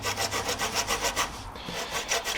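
A handsaw trims excess length off tapered wooden tenons on slab coffee table legs, with steady back-and-forth strokes in a quick even rhythm, close and clear, with a brief pause partway through.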